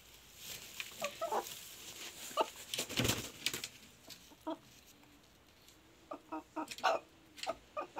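A Brahma hen clucks softly in short, scattered bursts, with a few quick clusters near the middle and end, over a faint, quiet background.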